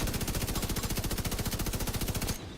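Automated turrets in the video game Division 2 fire rapid, evenly spaced bursts of gunfire. One loud continuous stream rattles for about two seconds and then cuts off abruptly.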